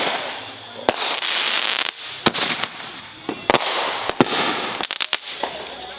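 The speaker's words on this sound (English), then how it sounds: "He brought fireworks, guys." Fourth of July fireworks going off in a rapid series of sharp, loud bangs and crackling bursts, some close together in clusters, with voices faintly present between blasts.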